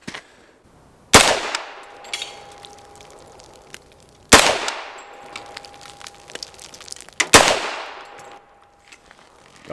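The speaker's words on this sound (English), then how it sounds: "that was only 3 shots" Three loud unsuppressed gunshots from an Extar EP45 pistol at an outdoor range, evenly spaced about three seconds apart, each a sharp crack with a long decaying echo, no talking.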